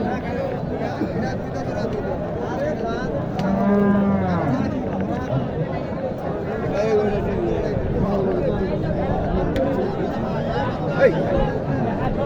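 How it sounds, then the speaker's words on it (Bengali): Cows mooing at a busy cattle market in Naogaon, long low calls rising over a constant crowd babble of people talking nearby. "যেহেতু গাবিন গরুর ভিডিও করছি"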